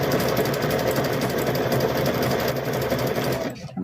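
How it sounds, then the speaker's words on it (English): Sewing machine running steadily as it stitches across rope, a loud continuous mechanical whir that stops abruptly near the end. "We're just going to go across this a few times, and then we'll start stitching it around."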